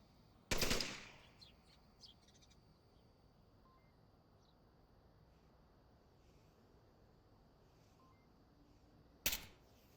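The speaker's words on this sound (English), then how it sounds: "Shots coming out from Don on the hilltop" Two gunshots sound in the Onward VR shooter game, a sharp burst near the start and a single crack near the end, separated by a long, quiet stretch of faint ambience.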